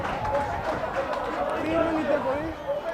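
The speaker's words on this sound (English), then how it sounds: "you can hear the elation from the crowd" Spectators at a schoolboy rugby quarter-final between Helderberg and Durbanville cheer and shout in elation after a referee's obstruction call, a steady crowd roar with voices rising and falling throughout.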